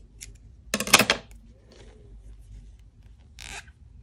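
Crochet yarn is snipped with scissors, a single quick cutting snap with a short rustle after, then a second brief scissor sound a few seconds later in a quiet room.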